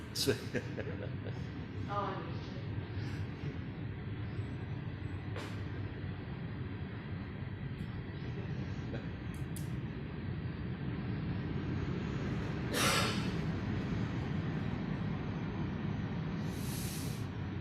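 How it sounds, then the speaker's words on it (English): A train rolls past near a town council meeting in Loomis, a steady low rumble filling the whole stretch with a brief louder surge of hiss partway through, while people talk faintly over it. "sorry, we're waiting for a train."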